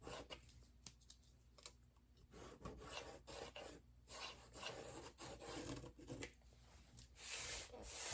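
Pencil tracing an outline on thrifted material for a DIY craft, close scratchy rasping strokes of varying length with brief pauses, no talking.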